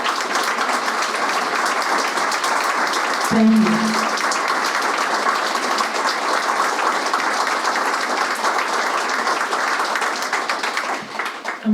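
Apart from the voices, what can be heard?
crowd ovation for yacht crew members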